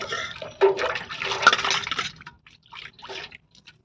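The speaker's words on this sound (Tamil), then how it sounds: "தண்ணியில் போட்டு நல்லா அலாச்சிக்கலாம்" Water sloshes and splashes as aloe vera is swished around in a basin, a burst of rinsing followed by a few softer dribbles and drips.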